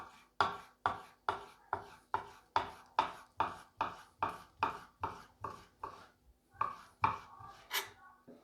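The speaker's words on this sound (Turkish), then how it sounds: "şöyle iki parmak kalınlığında kesip ince ince doğruyorum" A knife chops chicken into thin strips on a board, fifteen or so steady, evenly spaced crisp strikes, close and clear with no talking.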